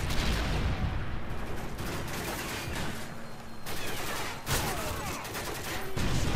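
Rapid bursts of gunfire crackle continuously in Call of Duty: Modern Warfare 3, with repeated volleys and shots layered over a dense background for several seconds.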